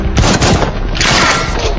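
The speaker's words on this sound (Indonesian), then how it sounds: "Elisa bertemu dengan Chris yang langsung melindunginya dengan menembaki Corvo." In a film scene, gunfire bursts in a dense, loud barrage of overlapping shots and booms, close and continuous for under two seconds.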